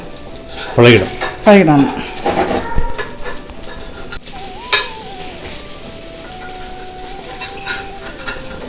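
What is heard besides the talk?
oil sizzling on cast iron skillet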